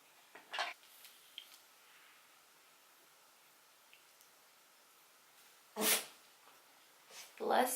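A single sharp sneeze near the end, close by, following quieter breathy sounds and rustling in a mostly quiet room.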